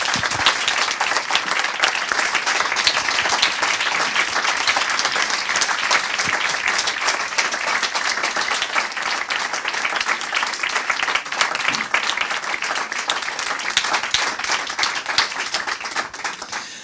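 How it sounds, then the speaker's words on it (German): A long, steady round of audience applause for two guests at an after-work inspiration event, many people clapping at even strength from start to finish. "Und vielleicht einmal einen großen Applaus für unsere beiden Gäste."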